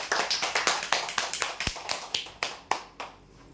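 Loud, rapid applause from a crowd greets a prize draw winner, dense clapping that fades toward the end.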